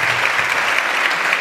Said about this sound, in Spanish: es un aplauso muy fuerte.